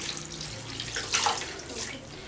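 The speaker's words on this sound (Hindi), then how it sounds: "ऊपर से ठंडा पानी डालें" Cold water splashes and trickles steadily for a couple of seconds, poured over macaroni in a strainer, with a brief louder gush midway.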